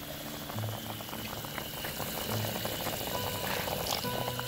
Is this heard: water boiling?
yes